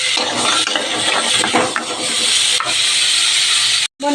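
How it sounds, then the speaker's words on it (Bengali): Chickpeas frying in a pan with green chili and salt give off a loud, steady hiss and sizzle, broken by the scrape of stirring and a brief cut to silence near the end. "একটু কাঁচা লঙ্কা দিয়ে নুন দিয়ে একটু ভেজে নিচ্ছি ছোলাটা।"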